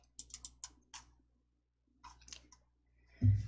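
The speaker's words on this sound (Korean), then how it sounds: "D 완성 더블 클릭." Close, crisp clicks of a computer mouse come in quick pairs, a double-click opening a PowerPoint file, with a few more light taps after a short pause and a soft thump at the end.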